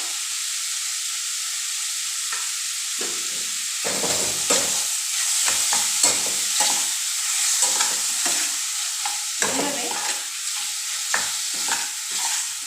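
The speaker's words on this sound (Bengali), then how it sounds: "ভালোভাবে নাড়াচাড়া করে একটু সময় ঢাকনা দিয়ে দিই" Spices for ripe mango chutney stirred and frying in a pan, with turmeric and salt added; a steady broad sizzle runs throughout while a spoon scrapes and stirs in repeated bursts, close and alone.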